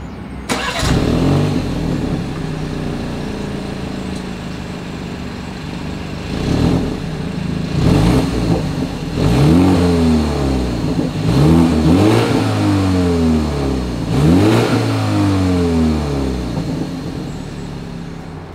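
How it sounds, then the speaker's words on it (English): A 2024 BMW X3 M40i revved from outside at the exhaust: a startup, then a series of sharp throttle blips rising and falling, about five distinct revs in fairly even rhythm, loud and close with no talking. "As always, here is that exhaust clip."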